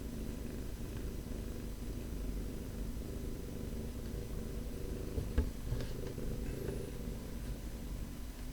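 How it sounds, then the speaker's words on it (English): A pet cat purrs loudly and close by in a steady, continuous low rumble that carries through the whole stretch, with no speech over it. "my cat's purring kind of loud."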